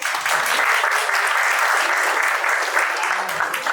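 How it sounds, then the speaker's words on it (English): Audience at a cybersecurity talk claps for the event organizers, a loud, continuous round of applause from a sizeable room that holds steady for a few seconds. "So let's clap for them."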